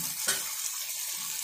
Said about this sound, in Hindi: अब इसके अंदर हम डालेंगे एक कटोरी पानी।